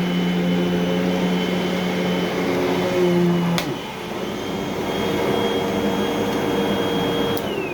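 A 2011 Eureka The Boss Smartvac upright vacuum cleaner with a wooden brush roll runs with a loud steady motor whine, which shifts pitch and drops slightly partway through, then continues droning.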